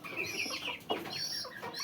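Aseel chickens give a few short, soft clucks in quick succession, fairly faint and with no talk.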